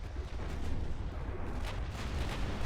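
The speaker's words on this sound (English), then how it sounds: "That was an 8-inch high explosive hit taken off the stern of the destroyer." A naval gunfire impact, an 8-inch high explosive shell striking the stern of a destroyer in Ultimate Admiral Dreadnoughts, heard as a dense rumbling boom that rolls on with sustained low roar throughout.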